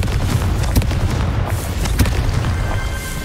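Booming blasts from the Confringo fire spell in the Hogwarts Legacy game, a dense, continuous rumble of explosions with sharper bursts near the one-second and two-second marks, loud and close with no voice.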